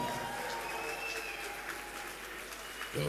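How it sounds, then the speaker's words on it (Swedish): Audience applause at the Mr & Miss Sweden 2017 final pageant, a steady wash of clapping from a large crowd that holds even throughout and swells slightly at the end, with no voices on top. "Stora applåd, mina damer och herrar, Alex De Rosso!"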